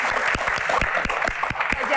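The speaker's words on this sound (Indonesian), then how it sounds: "Dari hati, tepuk tangan dong." Audience at a concert Q&A clapping, a brief spell of moderate applause with distinct individual claps standing out over steady crowd noise.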